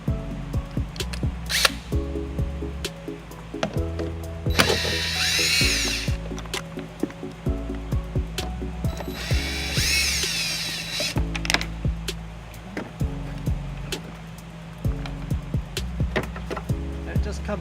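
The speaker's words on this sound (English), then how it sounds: "we have two Phillips screw fasteners here that we need to take off to get the light to come out" A power drill whirs in short bursts as Phillips screws are backed out of a 2010 Ford Escape tail light, with clicks and handling noises between runs and someone talking over parts of the work.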